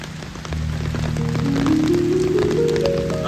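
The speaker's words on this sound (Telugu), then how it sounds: "ఇందాకటి కంటే వర్షం ఉధృతి పెరిగింది" Heavy monsoon rain pours steadily in Palava, Mumbai, a dense close hiss throughout, while a vehicle engine drone climbs in pitch beneath the downpour.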